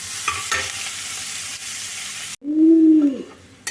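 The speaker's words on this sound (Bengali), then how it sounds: "সময় ধরে পেঁয়াজটা ভেজে নিচ্ছি" Onions fry in a pan with a continuous close sizzle and a few stirring scrapes for about two seconds, then it cuts off abruptly to a loud, rising-then-falling tonal whistle.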